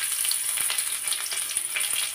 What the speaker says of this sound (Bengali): তেলটা গরম হয়ে গেলে এখানে কিছু আস্ত জিরা দিয়ে দিলাম, আর সাথে দিয়ে দিব কিছু পেঁয়াজ কুচি।